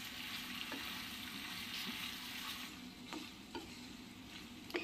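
Rava dosa filling stirred with Schezwan chutney in a pan, a low steady sizzle under scattered soft spatula scrapes and taps, fairly faint, with no voices.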